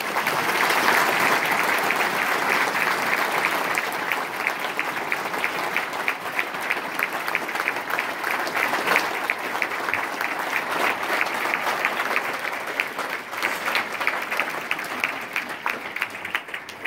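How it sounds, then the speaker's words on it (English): An audience at a basketball event applauds a speaker, sustained and loud, dense clapping filling the room for the whole stretch, easing only slightly toward the end. "Let's give Inky a round of applause."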